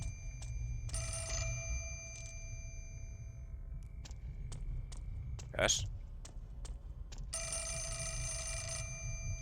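An electronic phone rings in repeated bursts in a horror video game, set against a low steady hum, soft clicks and a brief sweeping sound, with a short spoken word in between.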